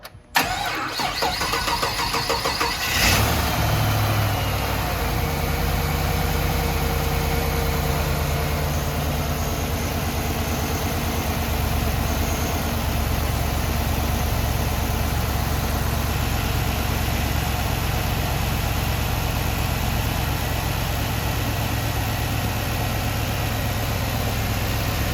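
A 1959 Cadillac cranks briefly and fires on a cold start, then settles into a steady, loud, even idle that carries on alone.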